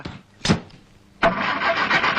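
A car engine turns over and catches, then settles into a steady running noise as the car pulls away. It comes after a short sharp sound and a pause.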